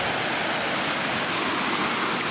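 Steady broadband roar of the Pemali River in Brebes, rushing and swelling with floodwater after heavy mountain rain, a dense continuous rumble close by with no voices.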